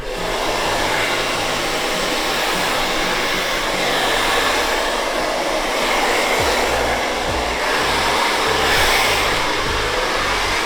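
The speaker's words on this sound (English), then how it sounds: "We're gonna remove the excess hair with the blow dryer." A blow dryer roars steadily and loudly for the whole stretch, clearing cut hair during a skin fade haircut, a constant rushing hiss with a low motor hum underneath and no voices.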